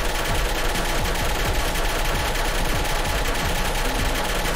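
Portal 2 turrets fire bullets in a dense, unbroken machine-gun rattle that stays loud and even from start to finish.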